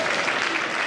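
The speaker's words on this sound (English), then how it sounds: "I'll take the applause" Brief burst of dense applause from a large audience at a bank's annual meeting, steady and fairly loud throughout.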